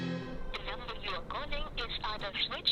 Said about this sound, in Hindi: ये रविंद्र फोन क्यों नहीं उठा रहा?